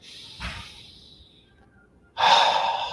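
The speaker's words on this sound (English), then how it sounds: "let's take a breath together. Let's share a breath." Two people take a deep breath together, with a soft breath near the start, a quiet pause, then a loud, close, drawn-out exhale or sigh that rushes through to the end.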